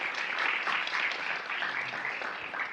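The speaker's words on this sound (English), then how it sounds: "please give them a round of applause for their continued work." Brief applause from an audience at an immigrant rights training session for service providers, a soft, continuous patter of many hands heard at a moderate distance.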